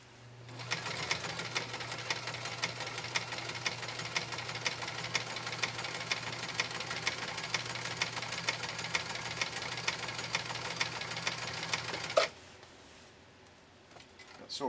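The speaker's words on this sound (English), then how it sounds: "Alright, here we go with the bamboo roll stitch." A PFAFF Hobby 560Z sewing machine runs a bamboo roll stitch in one steady, fast, continuous mechanical whir for about twelve seconds, close up, then stops abruptly into near quiet.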